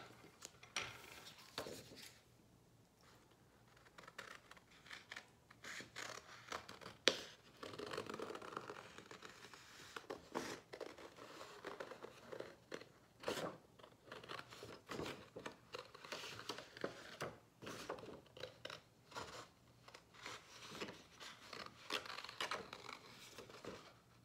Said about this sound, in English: Now I am also going to cut this edge.